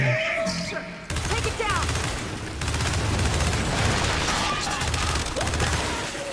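Gunfire in the video game Gears of War 5 during a co-op campaign, a dense, continuous volley of shots and rumbling impacts with people talking over it.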